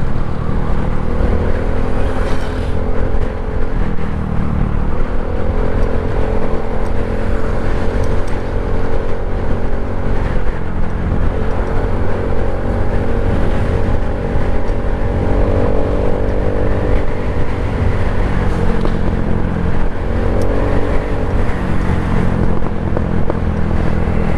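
Motorcycle with an engine fault that makes it pop, ridden on a road toward the town of Alaminos. The engine drones loud and close without a break, its pitch rising and falling, with wind rush. No voices.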